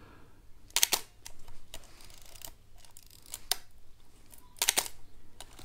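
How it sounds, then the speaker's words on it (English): A 35mm SLR film camera, its shutter firing with sharp mechanical clicks followed by ratcheting film-advance winding, several distinct bursts close up separated by quiet pauses. "Then we'll fire the shutter and just keep winding on."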